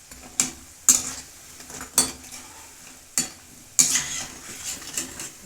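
Moong dal and wheat flour snacks deep-fry in hot oil at medium heat, a soft continuous sizzle broken by several sharp metal clinks and scrapes of a ladle against the pan.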